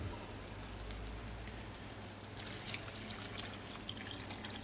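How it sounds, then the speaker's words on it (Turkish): Water is poured into a pan of curry-spiced chicken sauté, a soft trickling splash that builds midway, quiet and close over a low background hum. "Şimdi suyumuzu ekleyelim."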